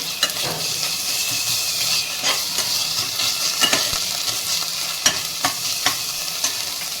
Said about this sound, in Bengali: রসুন আদাটা ভাজা ভাজা হলে পেঁয়াজের সঙ্গে ভাজা ভাজা হয়ে যাবে